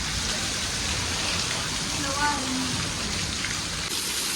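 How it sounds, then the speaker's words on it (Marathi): Steady, dense hiss of heavy rain pouring down without pause, with water starting to pool, loud and close, with a faint voice briefly audible beneath it. "कसला पाऊस होतोय बघा पाणी पण साचायला लागलं"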